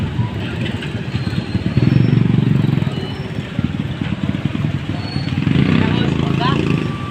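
A motorcycle engine rumbles steadily up close, swelling louder twice as it revs, with people talking over it throughout.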